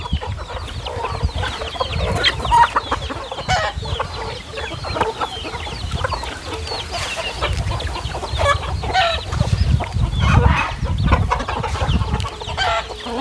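Several chickens on a rural Thai farm cluck and squawk continuously while being chased, loud and close with frantic overlapping calls and scuffling movement throughout; no speech.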